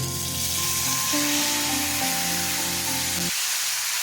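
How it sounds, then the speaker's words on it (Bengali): Marinated ridge gourd fries in hot oil in a wok, giving a loud, steady sizzle and crackle up close with a low hum beneath that cuts off near the end. "এখন আমরা এই কড়াইতে গরম তেলের উপরে ম্যারিনেট করা ঝিঙেগুলো যোগ করে দেব"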